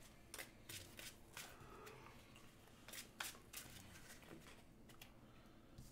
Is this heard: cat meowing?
no